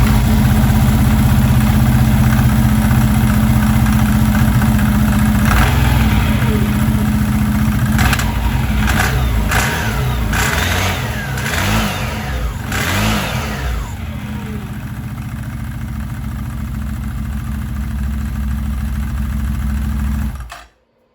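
A CF Moto 850 ATV engine, just fitted with a new variator kit, idles loudly up close, then revs in several quick bursts before dropping back to a steady idle and cutting off at the end.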